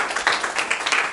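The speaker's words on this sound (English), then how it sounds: "can we give Chris a round of applause first?" An audience at a talk breaks into a brief burst of clapping, with quick uneven claps at moderate volume.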